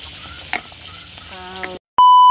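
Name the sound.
stirring vegetables frying in a pan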